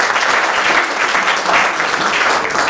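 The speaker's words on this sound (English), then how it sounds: "So I hope you'll all join in a round of applause." Steady applause from an audience at a public meeting, dense clapping throughout with no talk over it.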